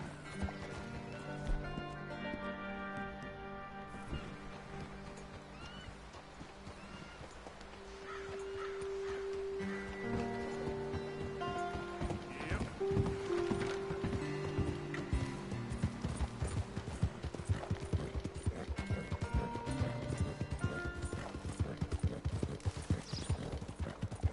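Horse hooves clip-clop in Red Dead Redemption 2, first with faint music, then a steady, brisk rhythmic trot that grows louder and continues without pause to the end.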